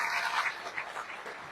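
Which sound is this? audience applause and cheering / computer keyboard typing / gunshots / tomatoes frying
audience applause and cheering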